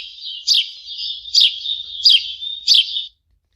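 House sparrow call played from an electronic caller: four loud, bright chirping bursts in an even rhythm over a thin high trill, ending abruptly in silence.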